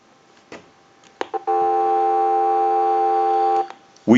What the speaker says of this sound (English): You should be able to hear that dial tone now.